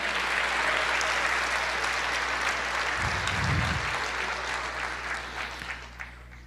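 A church congregation claps together in sustained, dense applause that holds steady before gradually thinning out toward the end, with a low hum underneath.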